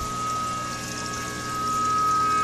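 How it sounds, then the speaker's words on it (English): Steady trickle of water spilling down into the sump of a Brazilian rainbow boa vivarium, with pump-driven return flow, a continuous close, even wash with a faint tonal hum. "Water spills down, there's a sump, water is pumped back up into the tank."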